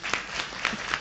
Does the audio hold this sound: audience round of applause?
yes